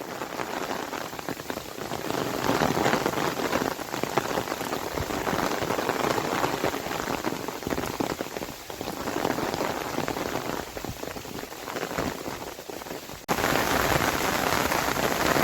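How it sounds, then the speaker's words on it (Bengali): Steady heavy rain pours onto surfaces in the Sundarbans, a dense continuous hiss that holds for the whole stretch with no voices, briefly dipping then returning just as strong. "দাদা বৃষ্টি হচ্ছে কি করবো"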